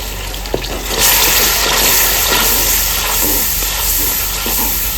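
Water is poured into frying masala in a clay handi, and a loud, steady sizzling hiss swells up after a brief splash and continues for several seconds.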